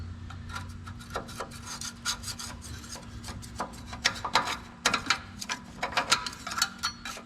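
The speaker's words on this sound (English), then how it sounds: "So we'll give it a good clean up with the scraper" A hand scraper works old grease and dirt off a truck frame on a single cab dually build, giving irregular rasping scrapes that grow louder and closer together toward the end, over a faint steady hum.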